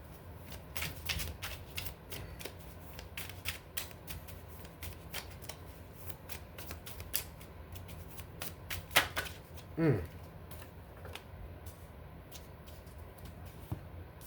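Tarot cards are shuffled close up in a quiet room, a run of quick soft riffles and flutters with small pauses between bursts, fairly faint throughout.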